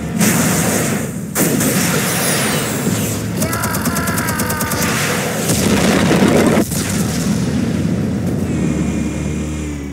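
Explosives going off in the Batman: The Telltale Series video game, a dense run of loud, close booms and blasts with sharp cracks, a rattling burst and rumbling debris, and a brief game voice mixed in.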